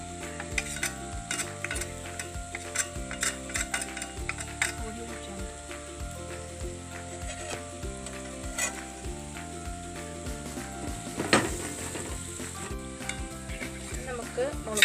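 Clam meat for a spicy kakka irachi fry sizzles in a pan as turmeric powder goes in, with scraping stirs and soft crackling running under background music.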